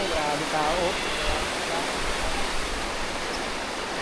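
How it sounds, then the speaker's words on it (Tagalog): River on Mt. Banahaw near Dolores, Quezon, rushing steadily as a loud, continuous wash of flowing water, with faint voices briefly at the start. "Sa ilog ng Dolores. Ilog ng Luciana."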